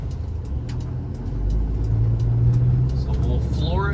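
A 1997 Toyota Land Cruiser Prado with the 3.0 diesel 1KZ-TE engine accelerating on a test drive, its low engine drone swelling steadily under the cabin noise, with a faint rising tone near the end.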